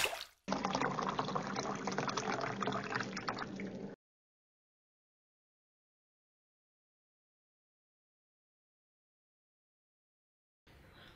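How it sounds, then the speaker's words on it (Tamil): Water splashes and trickles continuously onto a motorbike chain to rinse off dust for about three and a half seconds, then stops, leaving near-silence until a faint noise returns at the end. "ஸோ இப்போ செயினில் இருக்க டஸ்ட் எல்லாம் க்ளீன் பண்ணுறதுக்காக தண்ணி ஃபுல்லாக அப்ளை பண்ணணும்."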